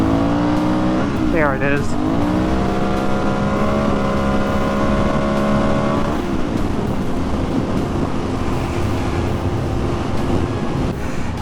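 An Aprilia Shiver 900 motorcycle engine revs up through a gear change, its pitch rising steadily, then holds a loud, steady drone under heavy wind rush while a rider speaks briefly.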